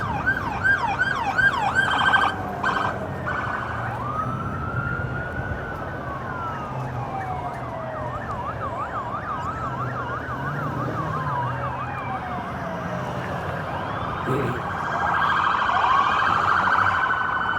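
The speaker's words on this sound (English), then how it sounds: "You just saw an ambulance go by." An ambulance siren sweeps up and down continuously as it passes, loud and close, alternating between fast yelps and slower wails over steady traffic rumble.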